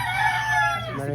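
Chickens and a rooster on Cuaming Island crow close by in a drawn-out call, with a steady low hum underneath.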